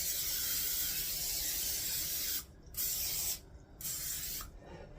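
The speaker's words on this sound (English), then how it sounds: "now we're going to spray the bottom of my 9x13 pan." Cooking spray hisses onto the bottom of a 9x13 baking pan in three close bursts, a long steady spray followed by two shorter ones with brief pauses between.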